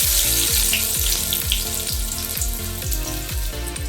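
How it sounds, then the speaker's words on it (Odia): Onion and green chilli fry in oil in a pan for Berhampur-style Maggi noodles. A dense, loud sizzle plays alone, crackling throughout, with a regular series of knocks that may be a spatula. "ପିଆଜ କଞ୍ଚା ଲଙ୍କାକୁ ଭଲ ଭାବେ ଫ୍ରାଏ କରିବା।"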